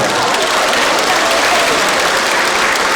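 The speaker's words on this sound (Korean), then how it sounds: "힘찬 박수로 맞아주시기 바랍니다." Loud, dense applause from an audience at an award ceremony, a continuous wash of clapping lasting the whole moment without pause.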